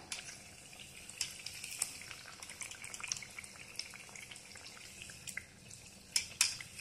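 Sabudana vadas, sago patties made with curd, fry in oil over a low flame, giving a soft, steady sizzle dotted with scattered crackles and small pops, faint throughout.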